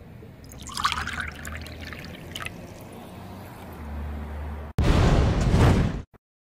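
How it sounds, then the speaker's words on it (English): Liquid poured from a test tube into a flask in a children's science activity, a soft trickle and dribble followed by a louder, brief rushing pour that stops abruptly. "pour the other test tube into the flask,"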